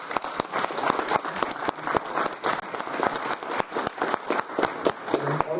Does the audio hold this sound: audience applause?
yes